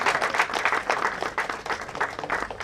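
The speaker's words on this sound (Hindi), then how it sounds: "एक बार जोरदार ताली अपने आप के लिए बजा दीजिए" An audience at a promotional launch event with comedian Sunil Pal claps for themselves. The clapping is close and lively, with individual hand claps standing out in an uneven rhythm, and no talking over it.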